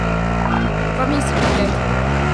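A car in Call of Duty: Warzone drives with a loud, steady engine drone close up throughout, with voices talking over it.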